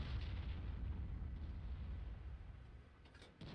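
A heavy tank cannon fires in a World of Tanks-style battle with an IS-7, a deep booming blast and rumbling roll that fills the clip, then drops away briefly before another burst near the end.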